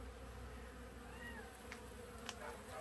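Bees crawl and fly around beehives, making a steady, dense buzzing hum with occasional closer passes, no talk.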